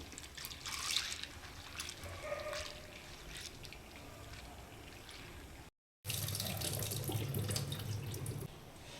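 Water runs steadily from a tap and splashes over lentils being rinsed in a bowl, with one brief cut partway through.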